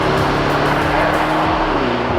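A Mercedes-AMG SL 55 open-top car driven hard, with a loud close engine note that sweeps up and down through quick gear changes over a brief stretch.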